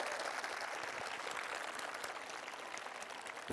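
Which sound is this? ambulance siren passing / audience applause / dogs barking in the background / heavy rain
audience applause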